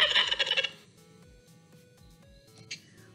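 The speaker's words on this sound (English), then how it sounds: "A common sound you will hear if you get close to a wild turkey sounds something like this." A wild turkey's loud, rapid gobble bursts out at the start, then fades into quieter background calls and a brief high chirp.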